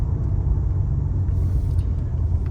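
Low, steady engine rumble of a BMW E24 6 Series heard from inside the car, constant and fairly loud, with no voices.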